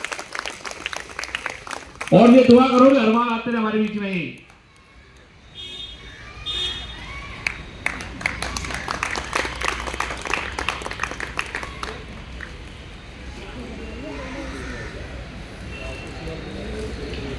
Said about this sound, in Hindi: एक बार जोरदार ताली बजाओ उनके लिए, रिटायरमेंट वालों के लिए।